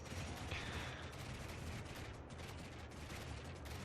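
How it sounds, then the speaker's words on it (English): Rapid machine-gun-like fire from a defensive tower cuts into cultist infantry in a fantasy strategy game, a dense continuous crackle of shots with distant battle noise and no pauses. "Our machine gun-like tower scything through the ranks of these cultists on the ground."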